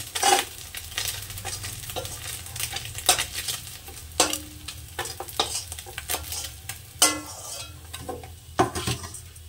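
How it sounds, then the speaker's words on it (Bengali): Maya fish pieces frying in oil in a kadai: a continuous bright sizzle with irregular scraping and clinking bursts as the pieces are stirred and turned, close and alone. "আর বাদ বাকি মাছ কাটাও ভেজে নেব।"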